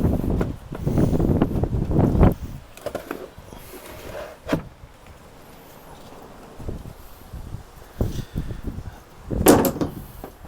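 The car door of a 1998 Reliant Robin is swung shut several times, giving separate dull thuds between gusts of wind noise. The door does not seem to latch cleanly.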